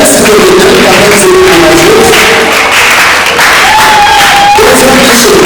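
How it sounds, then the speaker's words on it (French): A loud audience claps at a Congolese theatre gathering, sustained dense applause filling the room, with voices calling out and a few whoops rising over the clapping. "Applaudissez le maître, s'il vous plaît"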